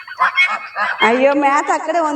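Duck calling in a village farm shed, a loud, nasal run of honking calls in the second half, coming after a stretch of nearby talk.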